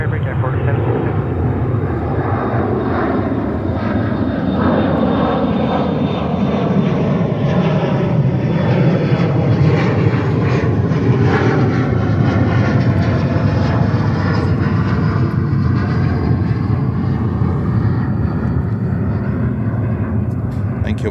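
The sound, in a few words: Emirates Airbus A380 jet on runway 13 left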